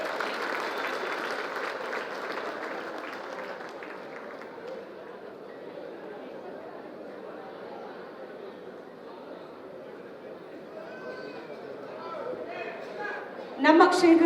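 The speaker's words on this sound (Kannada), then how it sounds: "ಒಂದು ಜೋರಾದ ಚಪ್ಪಾಳೆ" Steady applause from an audience at a government event, a sustained wash of clapping that fades slightly before a louder surge near the end.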